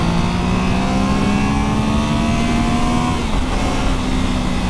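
A Triumph Trident motorcycle engine revs steadily and loudly up close, a continuous mid-pitched engine drone with rising harmonic tones, no speech.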